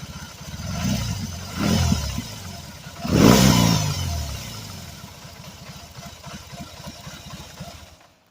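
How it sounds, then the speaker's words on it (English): A red 2022 BMW R18 Classic motorcycle with its big boxer twin idles with a lumpy throb, then gives a few sharp revs, the strongest burst midway, before settling back to a loping idle up close. "I'm going to rev it and you'll be able to see the bike move even more and hear it"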